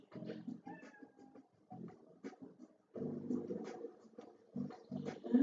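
A cat meows several times in short bursts in the video game Trauma Team, fairly close, with soft scratching sounds between the calls.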